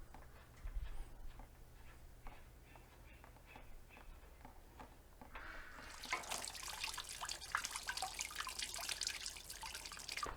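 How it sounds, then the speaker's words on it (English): Coolant draining out of the radiator of a Kioti CK25 HST tractor, a soft trickle that swells into a louder, steady splashing pour about halfway through, close by and without speech. "Let's remove it and drain it."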